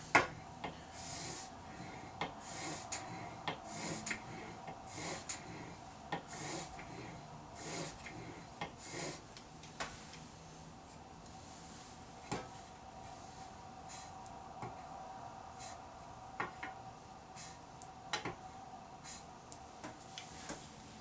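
Blade being sharpened on 3000 grit sandpaper, quiet repeated rubbing strokes in a steady back-and-forth rhythm with occasional light taps, close and faint.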